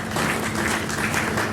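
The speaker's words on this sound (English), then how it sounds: "Just keep clapping" An audience at a lecture series on 21st-century gender challenges applauds steadily, a dense, even patter of many hands clapping close by throughout, with no voices standing out.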